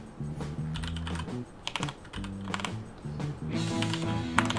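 Rapid typing on a computer keyboard during an online drawing-and-guessing game, a dense clatter of keystrokes running throughout over a steady musical background, with no talk.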